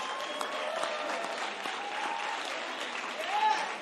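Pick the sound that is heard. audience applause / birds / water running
audience applause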